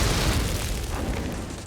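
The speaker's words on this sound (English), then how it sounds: "You'll get caught in its explosion." A broadband blast from the action video game Scarlet Nexus, a dense rumbling explosion that stays loud and roaring across the whole moment, gradually easing off slightly.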